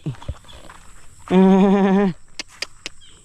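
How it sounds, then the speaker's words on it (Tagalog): Horse near a rice paddy gives a single loud, drawn-out call lasting under a second, framed by scattered knocks and faint rustling. "Kabayo."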